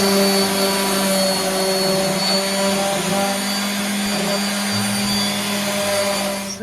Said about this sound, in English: you take your simple, you know, orbital sander and just kind of work that very long